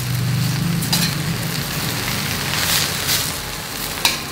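Onions sizzle loudly and steadily in a hot pan while capcay vegetable stir-fry is cooked, with a few light clinks from stirring and no talk.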